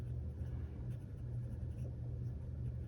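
An Esterbrook SD Blue Moon fountain pen with an extra fine nib writes in a planner, a faint scratchy stroke heard up close over a low rumbling background.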